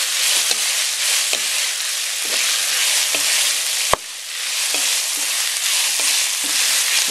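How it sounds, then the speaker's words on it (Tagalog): Sausage sizzles loudly and steadily in a pan for a chicken macaroni soup, with faint scrapes from stirring and one sharp clack of a utensil midway. "Kailangan lang pantay yung paggigisa natin dito."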